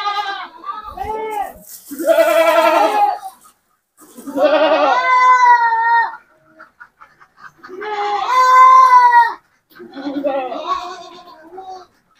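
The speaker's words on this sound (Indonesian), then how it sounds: "Proses pengambilan kambing dari kandang untuk dikeluarkan." Bligon, Jawa Randu and Peranakan Etawa goats bleat loudly and close by in repeated long, wavering calls separated by short pauses while they are being taken out of their pen.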